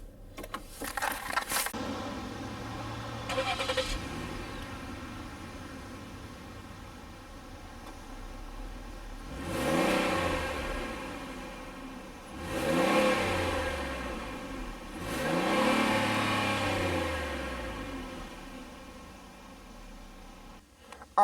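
A Ford Flex Limited AWD engine cranks to life, settles into a low idle, then rises in three separate revs that swell and fall back, heard close and with no one speaking.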